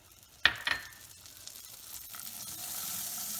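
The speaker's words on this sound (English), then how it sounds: "then we're going to add our butter," A pat of butter hits a warm pan holding pecans, with a sharp hiss on contact, then a soft steady sizzle that slowly rises and fills out as the butter melts.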